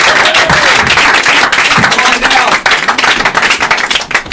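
Loud, close audience clapping and cheering greets a volunteer at a magic show, a dense burst of applause that stays strong throughout while a man calls out briefly over it.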